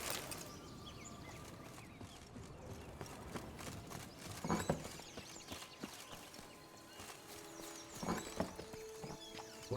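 A horse in The Witcher 3 video game clip-clops along in quiet, uneven hoof steps over soft ambience, with a couple of louder thuds and no one speaking.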